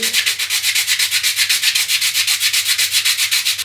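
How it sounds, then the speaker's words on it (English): A surfboard fin is hand-sanded to knock the gloss off, a loud, close, regular back-and-forth rasp repeating about seven times a second with nothing else heard. "We'll sand the whole thing."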